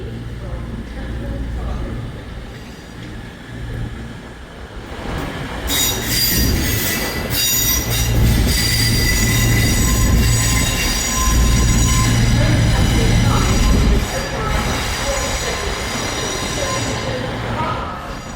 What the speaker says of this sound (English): And turning around again, we now have the TPE departing.